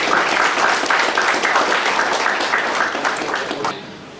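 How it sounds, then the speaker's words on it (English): A crowd at a half-day seminar applauds loudly and steadily, the clapping sustained for several seconds before fading slightly at the end. "Please give a big round of applause to the speakers"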